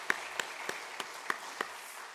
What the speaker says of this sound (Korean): 우리 한번 박수 한번 부탁합니다.